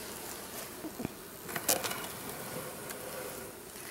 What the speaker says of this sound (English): bees from both hives will come to the closest hive to where they were